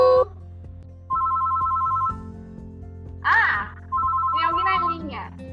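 Telephone ringing in a playful talk-show skit about cells: two electronic rings, each about a second long and clearly pitched, with a short spoken interjection between them and speech after the second.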